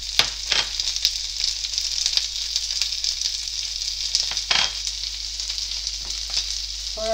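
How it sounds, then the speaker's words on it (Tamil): Chili powder and pepper powder sizzle as they are sautéed over high heat, a steady loud frying hiss with occasional stirring scrapes and clicks, close up and continuous with no talking. "நல்லா ஹை டீயில் வச்சு நல்லா ஈஸியாக நான் வதக்கிட்டுருக்கேன்"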